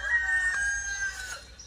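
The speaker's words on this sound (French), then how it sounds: "On entend même le chant du coq." A rooster crows in a countryside setting in France, one sustained cock-a-doodle-doo heard at moderate distance against quiet outdoor ambience with a faint low hum.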